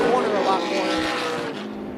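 Race cars running three wide for the lead at Tucson Speedway, a brief loud engine roar sweeping past and fading as they go by.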